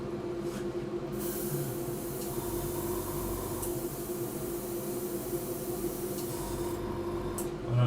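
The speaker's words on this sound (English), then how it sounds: "paint's not spraying properly at all." Paint sprayer not spraying properly during scale model building, giving a steady, harsh hissing rush of air that runs continuously with slight fluctuations and no clean spray bursts.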